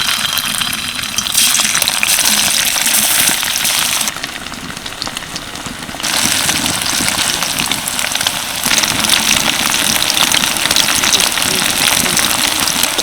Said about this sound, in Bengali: এবার পনিরগুলো তেলের মধ্যে দিয়ে দিচ্ছি